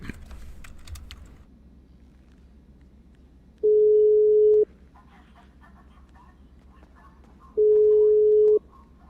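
A phone ringback tone in the video game 77RP sounds twice as steady electronic beeps separated by a pause, with faint clicks and quiet background noise between them.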